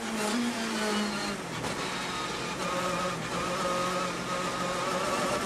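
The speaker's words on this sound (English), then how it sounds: "the engine noise is so loud on the roof-mounted camera" A WTCC touring car races around the Nordschleife during free practice, its engine roaring loud and close from a roof-mounted camera, with the pitch rising and falling through gear changes and revs.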